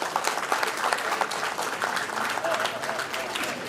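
A Women's Day gathering audience claps steadily and loudly throughout, a dense, continuous burst of many hands with faint voices mixed in.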